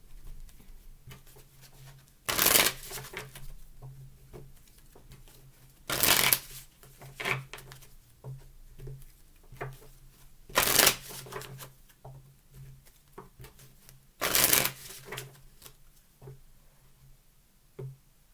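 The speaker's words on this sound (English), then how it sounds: "So we're going to pull some cards from the Twin Flame deck to see if they could say anything to you." A Twin Flame oracle card deck is shuffled in four brisk riffling bursts spaced a few seconds apart, close and crisp, with quiet handling taps between them and no talk.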